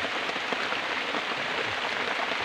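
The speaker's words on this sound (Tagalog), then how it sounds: "Biglang lumakas ang ulan, guys." Sudden heavy rain pours steadily onto the leaves of an anahaw palm tree, a dense, even hiss of drops close by with no voices.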